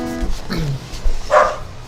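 A dog gives a couple of short, close barks in quick succession, with a person's voice briefly nearby.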